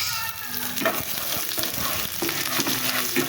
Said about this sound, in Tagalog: Tapos sinunod ko dyan yung sibuyas.